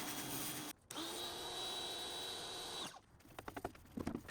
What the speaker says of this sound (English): and then I gave it a quick power wash